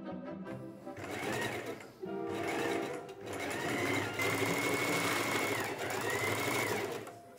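A sewing machine runs in long continuous bursts, stitching the seam of a fabric belt bag, with a short pause near two and three seconds before the steady mechanical whirr resumes, close and loud with no talk.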